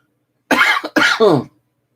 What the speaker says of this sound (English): I've been coughing like that, for the last couple of days.